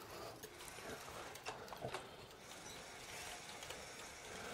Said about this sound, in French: Quand la machine aura fini de parcourir le nombre, elle va venir ici écrire sa réponse.